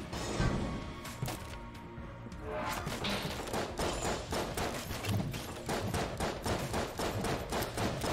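Rapid gunfire in the pixel-art roguelike Enter the Gungeon: a steady stream of quick, evenly spaced shots pattering across the whole stretch, mixed with impacts and background game music.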